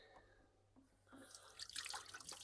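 Hands being washed under hot running water at a glamping pod sink, faint at first, then louder splashing and trickling as the hands move through the stream.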